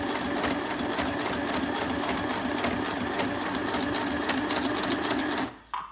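A Stitch Happy paper sewing machine stitches a big zigzag on paper with a fast, steady mechanical chatter that runs close and loud, then stops abruptly near the end.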